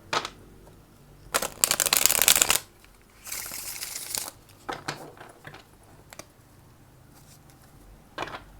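Tarot cards are shuffled close up in several bursts, a loud riffling flurry followed by a second longer shuffle, then softer taps and card handling between quiet pauses.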